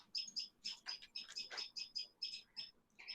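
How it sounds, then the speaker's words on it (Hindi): Small bird chirping in quick repeated high tweets, about a dozen calls in three seconds, faint and close, with soft voices murmuring underneath. "चिड़िया की आवाज आ रही है"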